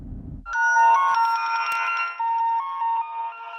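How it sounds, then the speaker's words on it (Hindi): A bright electronic phone ringtone plays a looping melodic tune close and clear after a brief low thud, signalling an incoming call from Sandhya. "बड़े भैया, संध्या का फोन आया।"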